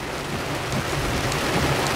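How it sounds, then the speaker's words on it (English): Hard hail drums steadily on a surface, a dense, even patter with a low rumbling undertone and no voices. "I don't think it's going to keep hailing"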